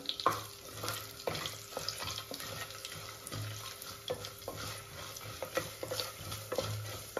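Mustard seeds, black pepper and cashews fry in a pan for pongal and pacchi pulusu, giving a steady close sizzle with scattered crackles and pops throughout.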